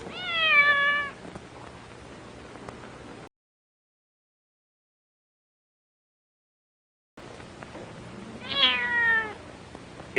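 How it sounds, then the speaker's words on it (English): A cat meows repeatedly in a 1937 Western film scene, with one cluster of cries at the start and another near the end, separated by a stretch of silence; the meows are fairly close and clear over a low background hum. "Come on, kitty. Kitty, kitty, kitty."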